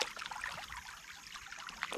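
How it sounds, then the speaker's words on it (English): Sand and water from a drop-riffle sluice are dumped into a gold pan, giving a steady, soft, close trickling pour that runs without a break and with no voices. "So what we're going to do now is dump the sluice out into a pan"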